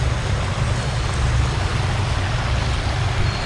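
River water flows at the Laut Semu Village tourist site, a broad, steady rushing wash that stays loud and unbroken throughout, with no voices.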